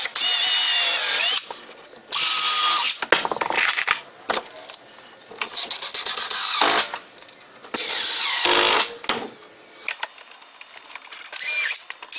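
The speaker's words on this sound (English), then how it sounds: "drill your holes and put in the screws." A power drill whirs in loud bursts with pauses between, ratcheting and grinding as screws are driven into wood, close up.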